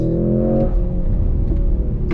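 A Mercedes-AMG GLC63 S E Performance engine revs hard and accelerates, a loud steady roar with rising harmonics, augmented sound, then a rougher rumble as the gear changes.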